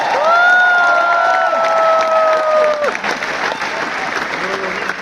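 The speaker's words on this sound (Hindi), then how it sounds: "जोरदार तालियां बड़ा बिजनेस के लिए।" Loud applause from an audience at a business event in New Delhi, continuous clapping with some cheering and a sustained tone over it, then thinning out toward the end.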